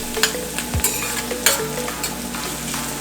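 Onion frying in a pan for a patty filling, a close, steady sizzle broken by scraping stirs and soft clatter against the pan, with no voices.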